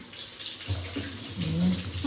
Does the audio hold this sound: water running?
yes